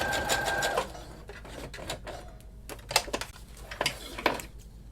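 A sewing machine zigzag-stitches over elastic on a lace mask, quiet bursts of rapid mechanical clatter that start, pause and restart in short runs.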